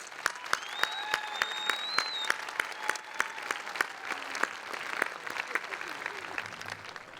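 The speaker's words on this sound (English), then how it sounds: "Please give them an enormous round of applause." An audience at a 2014 high school equivalency graduation ceremony at Rio Salado College claps in a steady, sustained round of applause, with a voice talking over it.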